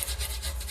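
A sanding block rubs back and forth across the wooden heel of a cigar box guitar neck in a light, steady scraping rasp, close and continuous, with gentle rhythmic swells as it rolls over the curve.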